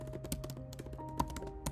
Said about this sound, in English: I think I'm going to switch to my old setup just so I can use my keyboard that I'm better at typing